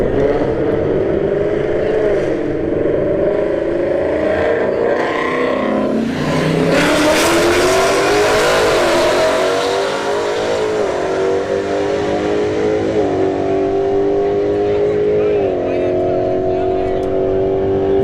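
Drag racing cars launch down a strip, a Challenger R/T in the left lane, engines revving loud and rising in pitch as they accelerate away, with a commentator talking over the roar throughout.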